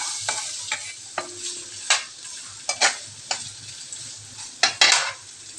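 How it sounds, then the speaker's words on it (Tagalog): Ginger frying in hot cooking oil, a steady close sizzle broken by sharp crackling bursts and occasional stirring scrapes, with no talking. "Mainit na po yung ating mantika. Uunahin po natin ang luya."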